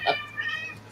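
A cat gives one short, fairly soft meow close by, quiet indoor background around it.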